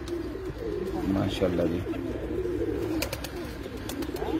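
Pigeons coo in low, throaty repeated calls on a rooftop, close and continuous, with someone speaking briefly over them and light rustling.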